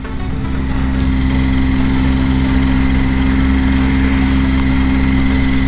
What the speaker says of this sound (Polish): Jeżeli już ktoś bardzo chce przepalać, to najlepiej odpalić go,